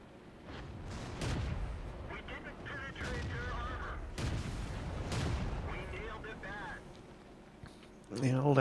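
Panzer IV tank with the L48 gun firing in World of Tanks, several sharp booming shots spaced a second or two apart, heard under steady talk.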